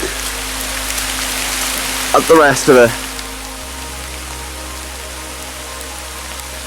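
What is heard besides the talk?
rain falling outdoors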